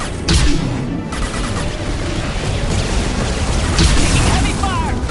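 Heavy gunfire and booming explosions from a Mass Effect 2 battle, a dense continuous barrage with repeated loud bursts, heard close and under talk.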